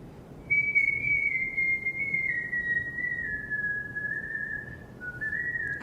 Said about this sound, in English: he challenged me to whistle